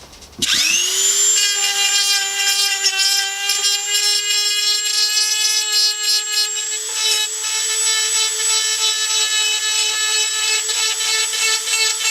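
A Dremel rotary tool whines at high speed while grinding metal near the B-pillar of a Golf MK2 during repair work, a loud, steady, close-up tone that spins up at the start and holds for the whole stretch.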